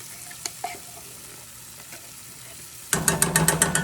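Canned pumpkin puree goes into a hot pan for vegan pumpkin pasta: a low, quiet sizzle with a few faint scrapes, then a sudden burst of brisk, rhythmic stirring clatter near the end.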